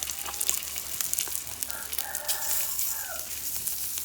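Pork sizzling and frying on a Lao mookata grill pan, a steady close crackle of fat throughout with faint chatter nearby.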